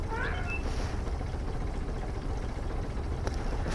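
A cat meows a couple of times, fairly faint, over steady engine-like droning from a farm simulator game.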